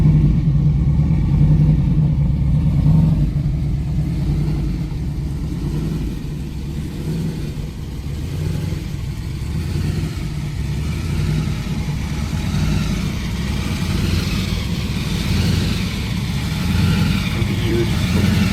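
A muscle car on fat tires launches at a drag race, its engine a loud, continuous deep rumble and roar that stays steady throughout, with faint crowd noise underneath.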